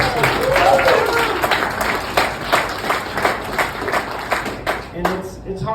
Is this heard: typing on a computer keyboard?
no